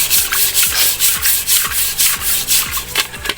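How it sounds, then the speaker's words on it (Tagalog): Rhythmic, loud scrubbing strokes rasp against a cooking pot, about two per second, close up and continuous with no talking. "Dito na rin po kami maghuhugas ng kaldero."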